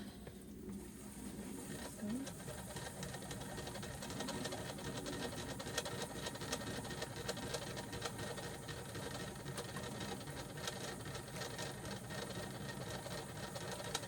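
Spinning wheel twisting fleece fibre onto a core yarn, giving a steady, continuous mechanical whirring with a faint rhythmic patter throughout, close and moderately loud, no voices.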